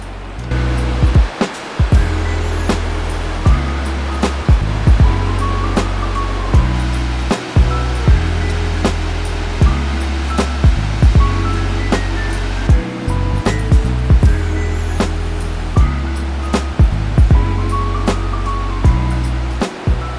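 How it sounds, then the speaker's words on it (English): A mountain waterfall along the road toward Mt. Kailash in Tibet pours in a steady, loud rushing roar that stays constant throughout, with faint clicks and bumps mixed in. "waterfall."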